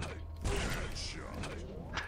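A door opens in the video game Quake with a mechanical creaking and grinding, close and steady for about two seconds, with a few low thumps and no talk.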